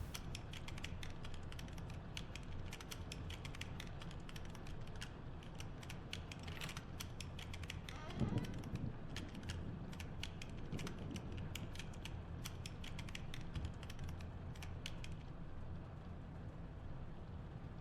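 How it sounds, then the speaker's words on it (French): Rapid clicky keyboard typing in the horror game Witch's Doll, a long steady patter of keystrokes with a brief creak midway, continuing until the keys stop near the end. "On va taper sur le clavier"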